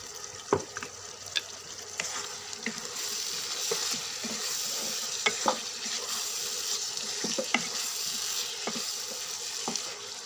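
Potatoes being stir-fried in a pan for aloo dum: a steady, close oil sizzle with scattered sharp clicks and scrapes from stirring throughout.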